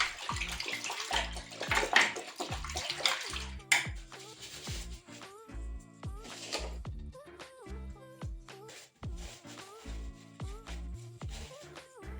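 A sink siphon is washed in a basin of warm water mixed with liquid laundry soap, giving repeated close splashes, sloshing and gurgles in uneven bursts, with no talking.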